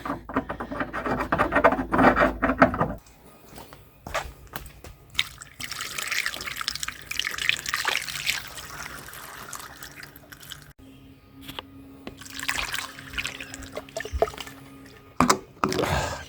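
Liquid fuel mixture is poured into the fuel tank of a barn-find S3 V12 car, giving a steady splashing, gurgling flow that stops and restarts, with quieter pauses and a few knocks in between.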